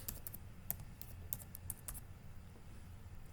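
Quiet computer keyboard typing a short note, irregular soft key clicks in quick bursts close by, faint and without talk.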